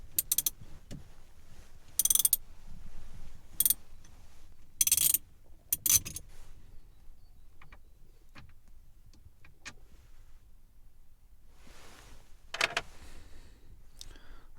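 T30 Torx screw being undone on the gear gaiter of a VW T5 van: quiet, close ratcheting clicks and small metallic ticks in short irregular bursts, with pauses between them.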